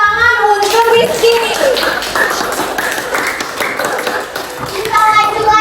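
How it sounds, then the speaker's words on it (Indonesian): Classroom children clapping for a student during a teaching session, loud close handclaps mixed with kids' chatter and a voice talking throughout. "Nah, beri tepuk tangan untuk Rizky."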